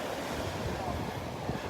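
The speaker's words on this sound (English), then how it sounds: "Music to my ears, the sound of the waves." Ocean waves break along the beach at Delnor-Wiggins on a Sunday morning, a steady roar of surf mixed with wind buffeting the microphone, continuous and fairly close, with faint voice-like murmurs in the background.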